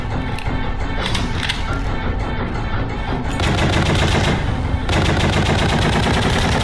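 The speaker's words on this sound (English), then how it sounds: "how is he shooting so fast?" Rapid gunfire in a video game, dense overlapping shots rattling without pause for several seconds, loud and close, with a brief stutter midway before the barrage picks up again.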